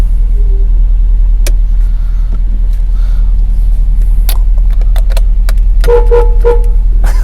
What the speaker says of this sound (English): Love that Italian horn.